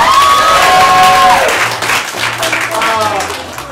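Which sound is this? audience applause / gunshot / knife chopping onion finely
audience applause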